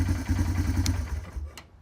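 A 1996 Yamaha YFB250 ATV engine idling close by, a steady low chugging putter with a couple of brief sharp clicks near the end, no talking.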